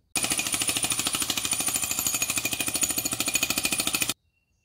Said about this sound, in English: A jackhammer going off in your ear isn't exactly pleasant